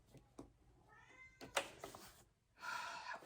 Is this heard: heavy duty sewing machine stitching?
no